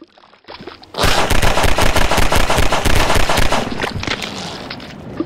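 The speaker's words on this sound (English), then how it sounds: "Time to shoot." Pistol fire in the video game Half-Life 2, a rapid string of loud, sharp shots that starts after a quiet second, runs close and dense, then fades with lighter pops.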